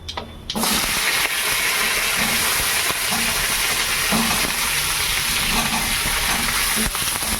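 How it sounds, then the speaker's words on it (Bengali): Pointed gourd, potato and papaya fry together in a pan for a vegetarian curry, giving a loud, continuous hissing sizzle that holds steady throughout, with faint low sounds underneath. "কাঁকরোল আলু এই পেঁপে একসাথে দিয়ে দেবো এটা ভাজবো"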